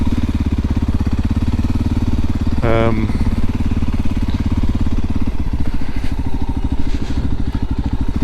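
A Voge 300 Rally or Honda CRF 300 Rally adventure motorcycle runs at a steady, close idle with a low single-cylinder thrum from engine and exhaust. One brief clattering burst sits in the middle, and voices talk over it.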